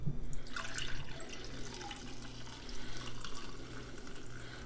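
B Nektar Mango Sorbet mango mead, made from honey and mango, pours into a glass with a soft, steady liquid splash and gurgle, fairly quiet and close, with no talking.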